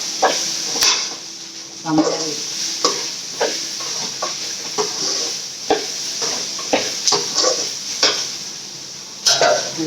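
Paneer fried rice ingredients being sautéed in a pan produce a soft sizzle under repeated clinks and scrapes of a spoon against metal, close and rhythmic.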